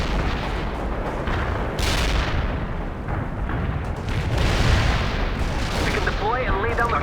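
Artillery barrage explosions in the video game World in Conflict rumble and boom in a dense, continuous wash of heavy blasts and gunfire, with a voice speaking over the bombardment.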